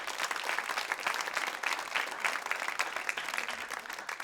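An audience at a live concert claps and applauds for the band, a dense, continuous patter of many hands at moderate distance, steady without breaks.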